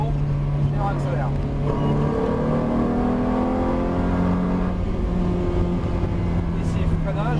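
A car engine revs and accelerates, pitch sweeping upward in steady rises, with a voice talking over the engine noise throughout.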